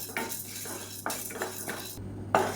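A spoon scrapes and stirs chana dal and toor dal dry-roasting in a pan for kulambu and sambar powder, giving a few close, irregular metallic scrapes over low background hum, with no voices.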